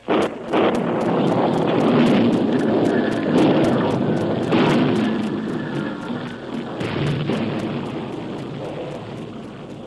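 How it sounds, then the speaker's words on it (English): A dynamite blast goes off in a tunnel, a loud, sudden deep boom that rolls into a long rumbling roar and slowly fades, with a crackling texture throughout. "an ear-splitting blast rocked the earth"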